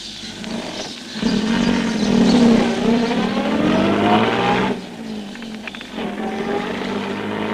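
Car driving off in a radio drama: a close engine rumble swells and pulls away with rising whine, drops abruptly, then settles into a steadier idle-like drone, with no voices.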